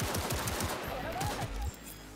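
Rapid automatic gunfire in Cyberpunk 2077, a dense burst of repeated shots rattling for under two seconds before cutting off abruptly.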